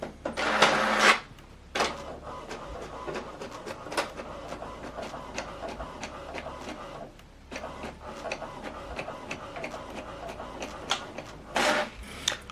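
An HP DeskJet 3700 inkjet printer running a print job: a loud whirring burst at the start, then steady mechanical clicking and ticking of the paper feed and print carriage, with another whir near the end.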